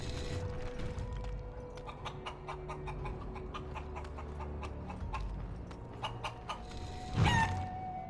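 A chicken clucks in the fantasy role-playing game Dragon Age: Origins, a steady run of short repeated clucks over a low ambient game hum, ending in a louder squawk.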